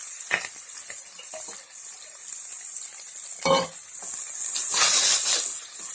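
Onions and green chillies frying in hot oil, a steady loud sizzle with bursts of louder crackling and hissing as they hit the pan, with no talk.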